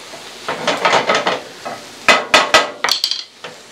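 Eggs stirred in a hot pan for a breakfast burrito: scraping, clattering stirs over a steady sizzle, with a cluster of sharper utensil knocks partway through, close and loud, no talk.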